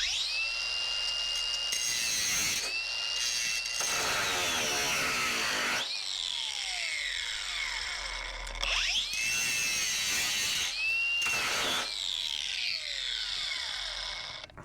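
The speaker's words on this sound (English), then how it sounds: "I put a big notch in that thing. It slowed down, but it didn't stall." Electric angle grinder cutting a deep notch under heavy pushing load, loud high whine repeatedly dropping in pitch as the motor bogs, then recovering between several separate cuts.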